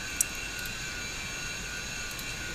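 Airliner jet engines spooling up during start in a flight simulator game, a steady even whine and hum with no talk over it.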